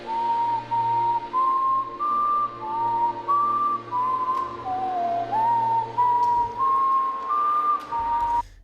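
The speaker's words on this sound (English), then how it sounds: "whistled a familiar rebel tune." Someone whistles "Yankee Doodle" close up, clear sustained notes in a steady stepwise tune with brief breaths between phrases, over a low hum.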